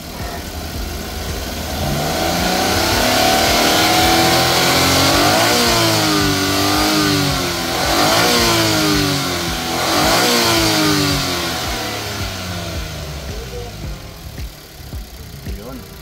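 A Suzuki DA17V 4x2 van engine revs repeatedly at higher RPM, rising and falling in several sweeping pulls, loud and close, with a voice talking over it.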